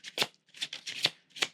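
A deck of playing cards being shuffled during a tarot-style spirit reading, several quick riffling bursts in close succession, crisp and near, with no talk.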